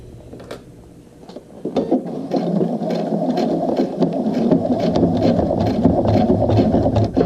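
Sewing machine back stitching and then stitching forward through several layers of vinyl on a toiletry bag, a steady close mechanical whir that starts lighter and grows louder and denser after a short pause.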